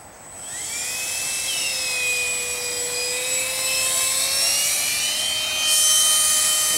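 An electric ducted fan model F-22 jet runs steadily with a loud, high-pitched whine that holds after spooling up and rises slightly near the end, with no talking over it.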